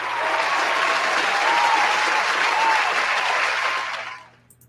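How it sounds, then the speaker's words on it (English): A film audience applauds a senior showgirl on stage, sustained dense clapping from a crowd that holds steady and loud before tapering off quickly into near silence at the end. "Round of applause for our senior showgirl."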